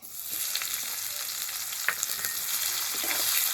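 Chopped onion frying in hot oil with bay leaf, dried red chilli, whole garam masala and cumin seeds for a Bengali katla fish kalia, a steady close sizzle broken by a few light clicks of stirring.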